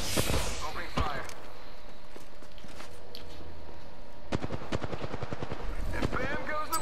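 Video game gunfire comes in bursts of sharp repeated shots, one cluster early and a denser volley near the end, over a steady mechanical hum with a voice speaking in between.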